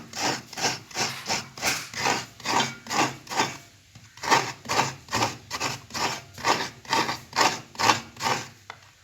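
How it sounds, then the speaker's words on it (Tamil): A coconut grated by hand in a home kitchen, with a steady, rhythmic series of rasping scrapes about twice per second, close and clear, pausing briefly midway before resuming, with no talking. "தேங்காய் திருவிட்டு இருக்குது"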